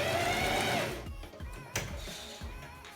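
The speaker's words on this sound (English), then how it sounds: "letting the sewing machine ruche the underside up" A sewing machine ruching elastic fabric for a Sith cosplay costume, its motor whirring steadily before slowing into uneven stitching bursts and clicks, close by.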